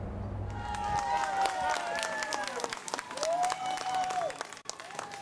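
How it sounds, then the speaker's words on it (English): Hundreds of mourners at an outdoor East Harlem memorial gathering applaud and cheer as white balloons go up, a steady wash of crowd clapping with scattered whoops and shouts rising over it, some voices mingled in. "Hundreds of mourners clap, cheer, and cry as they release fistfuls of white balloons into the blue sky."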